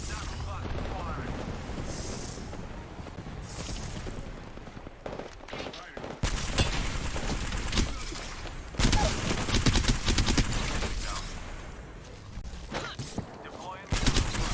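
Gunfire in the Apex Legends video game, with repeated loud bursts and rapid volleys coming in waves over a busy in-game soundscape, some voices mixed in.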